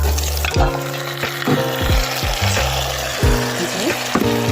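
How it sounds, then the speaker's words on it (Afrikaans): Meat sizzling and frying in a hot pan, with a steady crackle and hiss throughout and several louder bursts of spitting. No voices are heard. "so dan gaan ons vleisie lekker braai"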